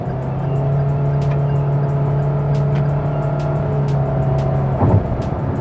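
Proton Iriz hatchback accelerating in sport mode, a steady engine drone that builds evenly with a brief surge near the end, heard from inside the cabin with no talking.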